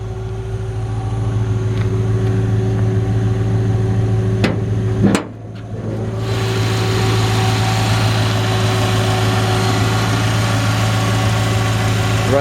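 A 1956 Chevrolet Bel Air with its 265 V8 idles steadily nearby, a smooth even hum that dips briefly after a couple of sharp clicks, then settles back to a constant idle.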